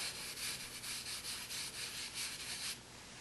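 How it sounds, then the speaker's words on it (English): Blue pastel rubbed off on 150 grit sandpaper, a quiet, close scratchy sanding with rapid repeated back-and-forth strokes, steady for about three seconds before stopping, no talking. "So I'm going to sand off the blue on my sandpaper."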